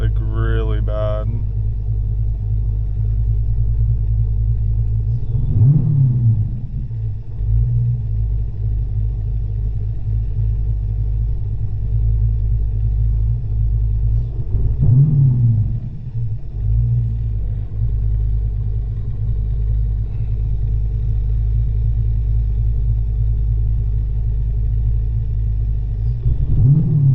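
A Dodge Challenger's Whipple-supercharged 426 engine idles with a deep, steady rumble, swelling in three slow revs roughly ten seconds apart, close and loud throughout.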